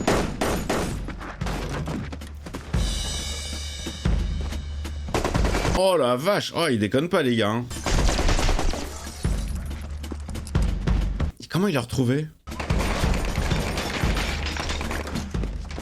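Heavy gunfire from a scene in the TV series Fargo: repeated loud bursts and volleys of shots with shattering crashes, spread over many seconds. French-speaking viewers talk and react over it.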